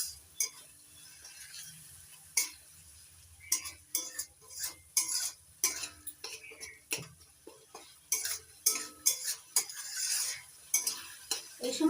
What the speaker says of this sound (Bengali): টমেটো বাটা দেওয়ার পর আবারও মশলাটা কষিয়ে নেব যতক্ষণ না মশলা থেকে পুরোপুরি তেল ছেড়ে দিচ্ছে।